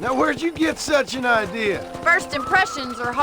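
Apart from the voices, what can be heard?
No everyday noise stands out behind the speech.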